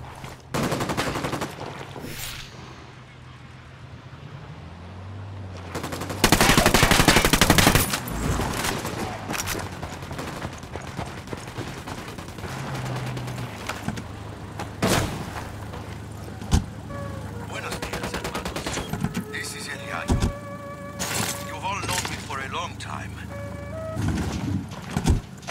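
Gunfire while shooting enemies in Ghost Recon Wildlands, with scattered sharp shots and a loud dense automatic burst early on, then sporadic cracks over a steady engine-like hum and background game sounds.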